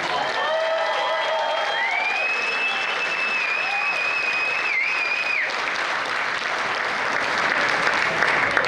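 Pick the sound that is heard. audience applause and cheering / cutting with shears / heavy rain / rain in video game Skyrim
audience applause and cheering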